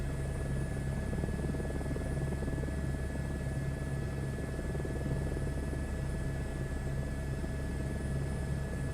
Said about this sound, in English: We got more helicopters coming in.